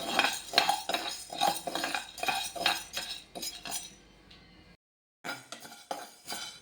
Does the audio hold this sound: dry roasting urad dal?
yes